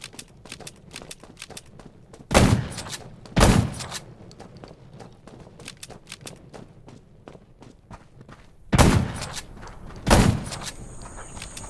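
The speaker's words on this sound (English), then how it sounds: "Gunshots will attract more zombies." Gunshots in the zombie video game Undawn: four sharp, loud reports in two widely spaced pairs, separated by quieter footstep-like shuffling and game ambience.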